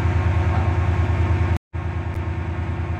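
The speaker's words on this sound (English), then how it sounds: "Oh, passing through now, so there's Stepford Express train." A Stepford Express train passes through a station in a railway video game, a loud steady rumble with a rhythmic pulse that drops out for a moment, then resumes.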